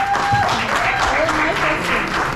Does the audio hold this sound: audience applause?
yes